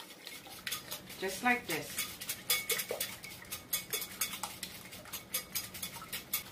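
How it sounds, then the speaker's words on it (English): Eggs whisked briskly in a bowl for a breakfast casserole, giving rapid rhythmic clinking of utensil against the dish. A voice speaks briefly near the start. "I'm gonna whisk my eggs really well"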